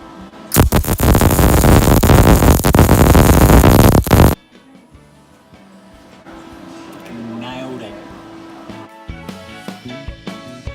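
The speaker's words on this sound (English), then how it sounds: "A plasma cutter forces high pressure oxygen through an electrode that is arcing onto the metal." A plasma cutter slices through metal with a loud, steady roaring hiss that lasts about four seconds, then cuts off abruptly, leaving quieter workshop noise and scattered small knocks.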